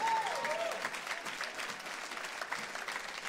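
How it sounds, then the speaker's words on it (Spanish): A church congregation claps together in a steady burst of applause for Jesus Christ, moderately distant and continuous. "Dele palmas a Jesucristo, el Hijo del Dios viviente."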